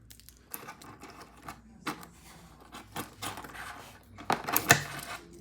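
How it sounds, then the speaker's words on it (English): Plastic wrapping comes off an Invicta Objet D Art automatic watch box with scattered crinkles, rustles and small tapping clicks, close and quiet, getting busier near the end. "I'm gonna remove the plastic now"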